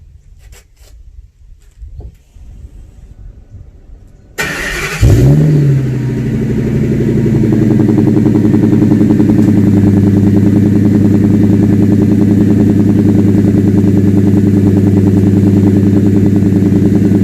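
A Ford Super Duty pickup with a V10 engine and an MBRP exhaust, left sitting for two days, cranks briefly and fires up from cold, flaring loudly before settling into a deep, steady, rumbling idle.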